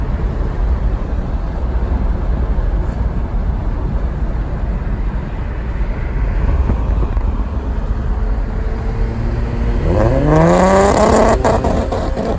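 Modded boosted FRS and Nissan 350Z cars racing, giving a loud, continuous close engine roar that builds into a sharp rising rev toward the end, with no voices.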